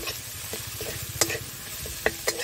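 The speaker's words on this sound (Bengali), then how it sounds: "রসুনটা ভাজা হয়ে গেছে" Garlic paste frying in a pan, a steady close sizzle with the scrape and clink of a spatula stirring it, a few sharper knocks standing out.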